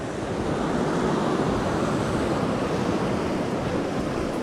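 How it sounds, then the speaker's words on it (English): A mountain creek at a winter trail crossing on Grandfather Mountain rushes steadily, a dense, even wash of flowing water, close and constant with no pauses or voices. "With this cool creek crossing here."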